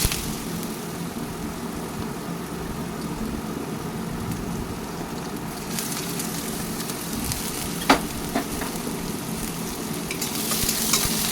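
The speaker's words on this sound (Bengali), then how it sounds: "আলুগুলোকে ভালো করে ভেজে নেব।" Cut potatoes frying in oil seasoned with nigella seeds, a steady close sizzle with scraping stirs and a sharp clatter near the end, no voices.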